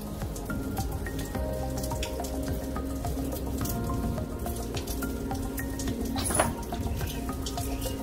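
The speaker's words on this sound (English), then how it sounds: "It's a beautiful rainy day. Still it is raining." Rain falls steadily outdoors around a potted juniper, a close, continuous patter of drops with scattered drips and one brief louder splash near the end.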